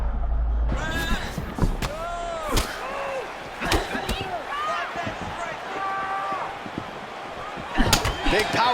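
Punches landing in the EA Sports UFC fighting game, Holly Holm against Raquel Pennington. Several sharp, hard smacks come one after another, some heavier than others, over crowd and arena noise with commentary running throughout.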